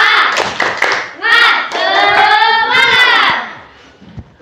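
Elementary school classroom clapping hands together, a few quick claps followed by rhythmic group clapping mixed with children's excited voices and shouts.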